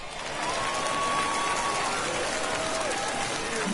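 A large stadium crowd roars and cheers at a home-opener baseball game in the MLB The Show 21 video game, a steady loud wash of noise with a faint whistle-like tone drifting through.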